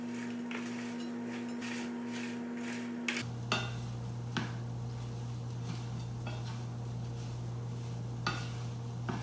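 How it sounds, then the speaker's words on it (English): Sweet potatoes get stirred into a sizzling veggie taco filling in a pan, soft scraping and clinks of a utensil against cookware over a steady low hum, with no speech. "Now we're going to go ahead and add the sweet potatoes into the mix."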